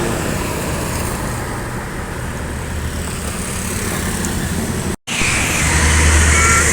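Sumbar intercity buses passing on a roadside in front of a minimarket, a steady engine and road rumble that swells near the end, with a brief dropout partway through.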